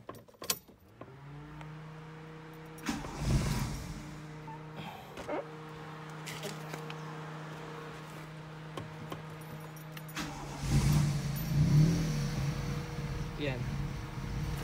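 A Toyota 2E engine running without its vacuum advancer starts up and settles into a low, slightly uneven idle nearby, with clinks and handling noises around it and people talking at times.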